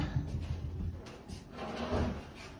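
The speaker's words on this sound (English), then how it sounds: "Taking the doors off first." Wooden kitchen cabinet doors being taken off during a demolition, with close knocks, creaks and a sliding, drawer-like scrape as the doors are handled and pulled free.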